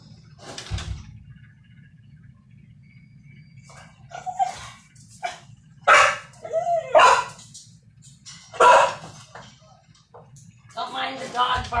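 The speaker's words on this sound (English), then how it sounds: "Don't mind the dog barking" A dog at home barks in several short, sharp bursts, spaced irregularly, mixed in with a person speaking nearby.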